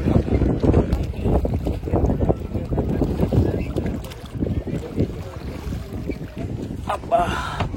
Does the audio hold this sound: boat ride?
yes